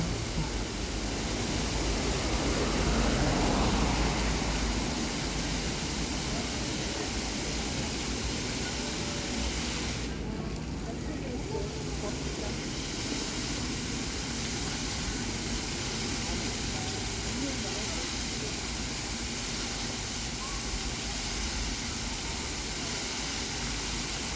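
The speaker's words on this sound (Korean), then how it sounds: "여기에도 물소리가 세게 들리는 편이죠" A colorful fountain show sends out a steady, loud rush of splashing water that fills the scene evenly throughout, a continuous broadband wash with no pauses.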